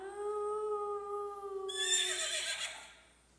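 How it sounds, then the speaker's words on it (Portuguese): A horse neighs in a single long whinny, a high quavering cry that shakes and breaks into a breathy rasp before fading, clear and alone. "Cavalo."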